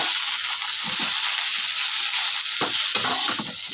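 Coriander leaves for a mint and coriander biryani sauté in a pan, giving a continuous loud sizzle with a few scraping stirs of a spoon; no talking.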